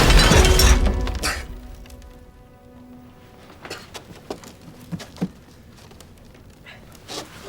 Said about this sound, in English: Do you just always break your glass?